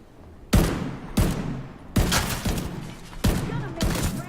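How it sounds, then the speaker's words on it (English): Headshot gunfire in The Division 2, heard as six loud, separate shots spaced roughly half a second to a second apart, each a hard crack with a short ringing tail. "Yep, headshot sounds now."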